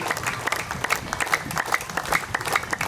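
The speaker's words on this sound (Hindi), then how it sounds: "तालियों में ताकत, इतनी ऊर्जा भरी आप लोग ने" A crowd applauds continuously, many hands clapping in a dense, lively patter at moderate distance.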